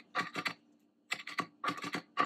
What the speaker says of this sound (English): I'm also going to chop up a little bit of cilantro.